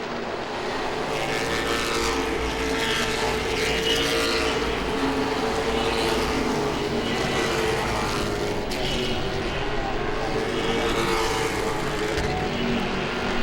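Late model stock cars race at Langley Speedway, a dense, steady engine roar holding level throughout, with no break or pass-by peak.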